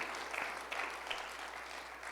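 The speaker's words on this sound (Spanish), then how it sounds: "Dale un fuerte aplauso si Él es el primer lugar en tu vida." Church congregation applauding together, a steady wash of clapping at moderate volume from a sizable crowd, continuous for the whole stretch without speech.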